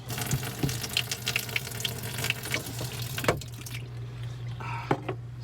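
Water runs steadily into a shaker bottle of pancake mix outdoors, a continuous close splashing stream that tapers toward the end, with no voices.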